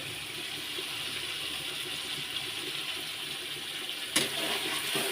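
Water pours into a pan of cooked-down masala, a steady rushing splash that runs throughout, with a sharp knock near the end.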